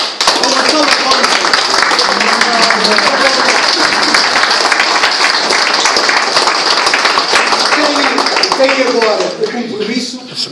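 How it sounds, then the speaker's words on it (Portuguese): Audience applause at a Guinea veterans' reunion gathering, a dense sustained clapping that fills the room and runs loud throughout, with voices and cheering mixed in beneath it. "Uma salva de palmas."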